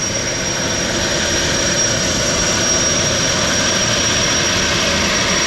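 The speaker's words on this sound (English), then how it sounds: "What's the point of the jet engine? Just be loud." Jet engine roars loudly and steadily, a dense, unbroken aircraft rumble with a high whine running through it, filling the whole stretch with no voices on top.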